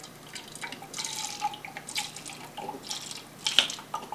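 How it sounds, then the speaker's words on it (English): Water trickles and splashes softly in short bursts, like pouring into a glass, quiet and close with no talking. "we take water and fill up 2 glasses of water"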